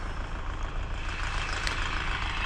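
A DTZ 5504K tractor running with a 1.8 m Bomet rotary tiller, a steady low engine rumble with mechanical churn, continuous and fairly close, no talk.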